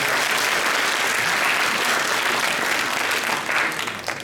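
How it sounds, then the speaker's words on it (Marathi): An audience at a talk on AI and IoT technology bursts into dense, sustained applause that fills the room, loud and continuous before easing slightly at the end. "तुम्हाला अभिमान वाटत असेल तर निश्चित टाळ्या वाजवा"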